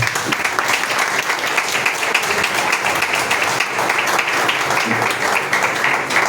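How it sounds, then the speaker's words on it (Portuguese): A church congregation claps loudly and continuously to welcome the preacher to the pulpit, a dense, even wash of applause with faint voices underneath. "Receba o servo de Deus com as palmas bem fortes."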